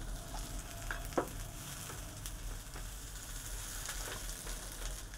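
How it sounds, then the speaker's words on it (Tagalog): Garlic sautéing in a pan for adobong balut in annatto, a soft, continuous sizzle with occasional stirring clicks and small pops, fairly quiet and without voices. "Isutay lang natin hanggang maluto at lumabas ang kanilang aroma"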